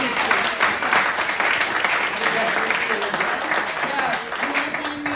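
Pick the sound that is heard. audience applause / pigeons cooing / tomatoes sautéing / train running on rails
audience applause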